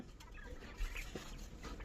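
Frightened European quail in a cage give short, faint clucking chirps at close range over a low, steady background, with one brief louder burst in the middle.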